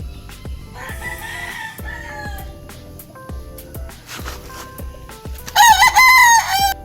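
Young five-month-old stag roosters of Kelso and Roundhead bloodline crowing close by, with several overlapping crows and the loudest, shrillest one near the end, over rhythmic background thumps.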